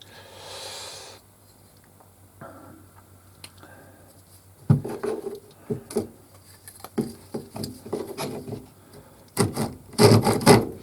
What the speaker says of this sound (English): for that I shall use a rasp